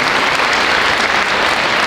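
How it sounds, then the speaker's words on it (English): Audience applause at a school district band concert, a dense, steady burst of clapping from a crowd filling the whole moment. "Let's give him a round of applause."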